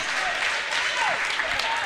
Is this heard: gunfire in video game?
no